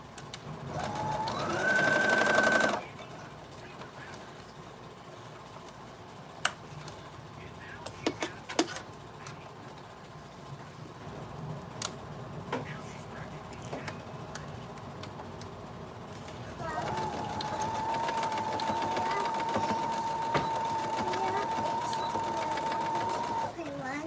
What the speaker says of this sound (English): You can use a zigzag stitch also if you want, but I do a straight stitch.